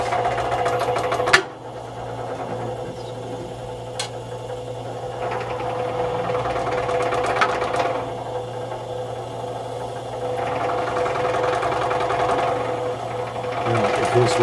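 A saw cuts steadily through a wax block with a continuous mechanical hum and buzzing drone, broken by occasional sharp clicks and brief pauses as the blade backs off.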